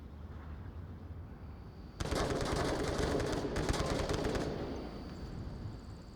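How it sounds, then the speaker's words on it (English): Sustained burst of automatic gunfire in the VR shooter Onward during a competitive match, shots fired through metal cover; loud, rapid and dense for about two and a half seconds after a quiet start, then fading into background noise. "Taking shots there through the metal."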